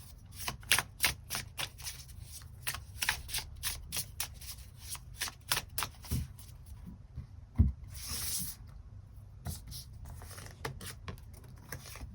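Tarot cards are shuffled and drawn in a quiet room, with quick rhythmic riffling bursts, soft slaps and a brief swishing slide partway through, all close and fairly quiet.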